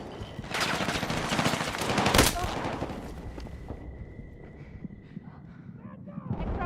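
Bursts of automatic gunfire from a first-person shooter game, dense rattling shots loud and close, fading to scattered distant noise with a voice talking over it.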